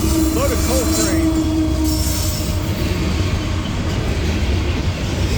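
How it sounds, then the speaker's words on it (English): A loaded CSX coal train rolls through curves near Morgan Station, a loud continuous rumble of railcars with wheels squealing in wavering, high-pitched tones near the start. "Loaded coal train."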